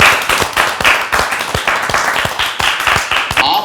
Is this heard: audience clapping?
yes